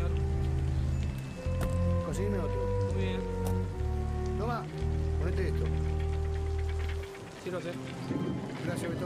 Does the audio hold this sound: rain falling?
yes